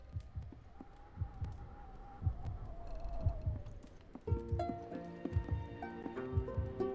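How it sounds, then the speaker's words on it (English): In the video game Winter Burrow, a soft heartbeat thumps in a slow, regular rhythm of low pulses beneath gentle game music and chimes. "I hear the little heartbeat."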